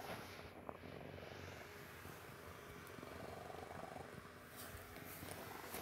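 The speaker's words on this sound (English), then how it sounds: "I know she's purring right now" A female cat purring close up, a steady low continuous rumble running the whole time with no talking over it.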